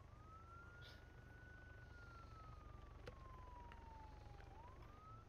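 A police siren in the video game Arma 3 wails in a slow rising and falling tone at a distance, over a steady low rumble of engine and ambient noise.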